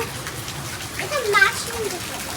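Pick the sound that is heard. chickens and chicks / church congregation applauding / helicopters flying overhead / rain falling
rain falling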